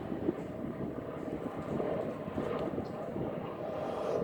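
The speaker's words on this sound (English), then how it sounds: "Here's the airplane." A distant airplane drones overhead, a low, steady rumble that slowly builds and holds without breaks.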